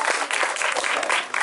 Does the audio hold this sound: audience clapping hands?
yes